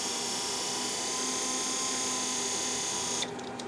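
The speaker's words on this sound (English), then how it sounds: "So if we just supply 12 volts to these, should be able to see that motor" A small BMW electric motor powered directly from 12 volts whirs continuously at close range with a steady, high-pitched buzzing tone, then cuts off abruptly near the end, with no talking.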